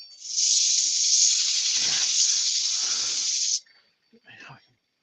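Wood sanded with 80-grit paper while a dust extractor runs: a loud, steady, airy hiss lasting about three seconds that cuts off abruptly, followed by a brief faint rustle.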